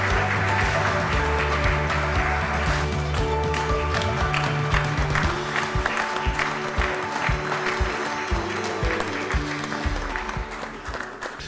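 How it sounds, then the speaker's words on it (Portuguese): Audience at an architecture award ceremony gives sustained applause, dense clapping that stays steady and then thins slightly toward the end, with no voices over it. "Uma grande salva de palmas."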